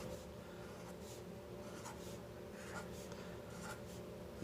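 A pencil draws a bee's nest on paper, making faint, close scratching strokes that come in short repeated bursts against a quiet background.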